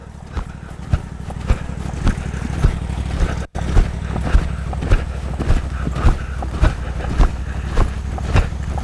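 Horse loping during rollback training, rhythmic hoofbeats thudding steadily in a three-beat pattern under a constant low rumble of movement, close and loud, with no talking.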